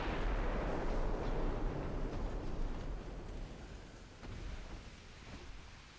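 Warship secondary guns firing in a naval combat video game, heard as continuous low booming rumble and distant blasts, fairly quiet and fading slightly over several seconds.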